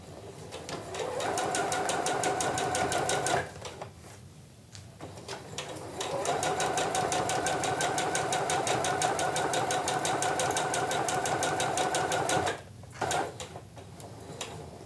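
Domestic sewing machine stitching the lining of a fabric bag, running in two long steady bursts of rapid needle clatter and motor whir separated by a short pause, close and clear.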